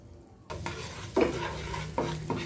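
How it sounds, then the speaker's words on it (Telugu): Chili powder, salt and garam masala frying in hot oil for paneer makhani, a sizzling crackle with several sharp stirring scrapes of a spoon in the pan, close and clear. "ఇవి బాగా ఒకసారి నూనెలో వేపాలి"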